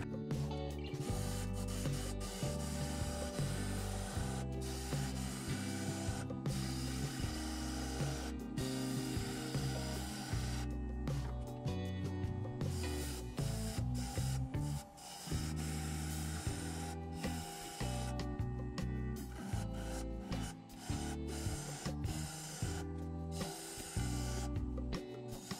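Gouge cutting into an end grain wooden bowl spinning on a wood lathe, a steady close scraping and rasping hiss over the low hum of the motor, running nonstop with no talk.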